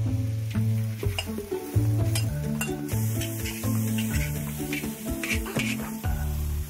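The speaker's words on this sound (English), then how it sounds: "I will dip the vegetables into the boiling cauldron." Vegetables sauté in leftover hot oil in a cauldron (kazan), a steady sizzle and frying hiss running under prominent music throughout.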